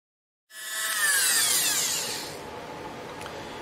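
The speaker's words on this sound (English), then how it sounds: "Just gonna have to do some more Dremel tool." A Dremel rotary tool grinds melted glue out of a bow during restoration, starting abruptly with a high, whining buzz that rises and sweeps, then settles into a steadier, quieter grind, close up with no talking.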